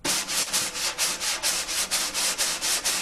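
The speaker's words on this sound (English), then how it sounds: "And it creates this kind of like sanding sound." Brush strokes scrubbing back and forth over a snare head make a rhythmic, close-up sanding swish, roughly a dozen even sweeps with no other sounds.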